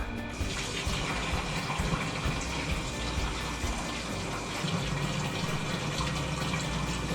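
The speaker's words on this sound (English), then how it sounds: "I'm gonna start running this water, and then when it kicks on, we'll see if it spurts out some air" Water runs from a tap fed by a well pump line that seems to have air in it, giving a steady, loud gushing rush close by that continues unbroken, with no talking.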